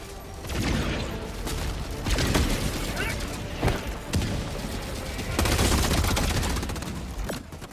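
Rapid W.A.S.P. launcher fire in the Helldivers 2 video game against Illuminate ships, a dense run of loud repeated shots and booms that keeps going with brief dips, mixed with game noise and what sounds like voices.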